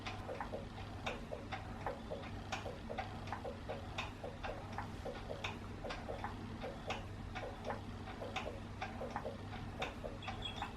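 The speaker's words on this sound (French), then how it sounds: "Battement du cœur." A Chicco electric baby swing plays its heartbeat sound, a steady, evenly spaced run of soft pulses repeating throughout over a constant low motor hum, with no talking.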